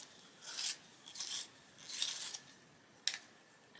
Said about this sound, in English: I should just give it a sharpen.